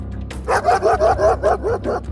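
A dog barks and snarls repeatedly in a steady series of loud, close barks within a Filipino horror audio story about an aswang, with a low music bed underneath.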